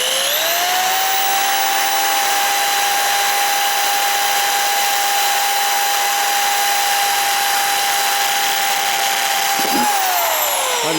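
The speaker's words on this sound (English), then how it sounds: "I just drilled it slow." A power drill runs with a continuous high whine, holding a steady pitch at a slow, even speed before winding down near the end.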